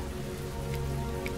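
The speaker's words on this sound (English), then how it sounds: "From this point on till the end of the game, it's always fucking raining." Steady rain falls in the video game Heavy Rain, a soft continuous patter on surfaces with a few faint drops standing out, and no voices.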